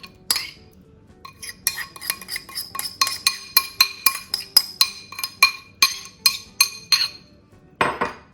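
Warm boiled potatoes being tossed with dressing in a bowl, a spoon or fork clinking and scraping against the dish in quick, irregular taps that build into a fast, steady rhythm before a brief pause and a final clatter.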